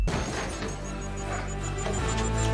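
A Furious 7 explosion plays from a film, a sudden loud crashing blast with shattering, debris-like crackle that rumbles on for a couple of seconds.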